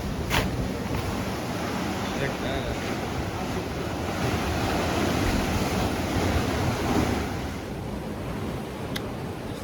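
Ocean surf rolls in on a rocky beach at Olympic National Park as a steady loud wash of broadband noise, mixed with wind buffeting the microphone.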